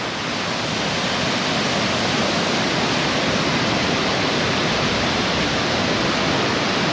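Rushing water and big surf roar near Bisibis Falls in Mauban, Quezon, a loud, unbroken wash of noise that holds steady throughout with no voices.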